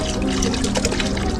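Water rushes and gushes along, carrying concrete in a Pat & Mat cartoon scene, a dense, loud, continuous torrent that lasts for a short moment.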